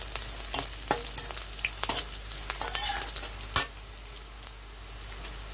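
Onions sizzling and frying in a pan while being stirred, a steady close crackle with scattered scraping stir strokes and small pops, no voices.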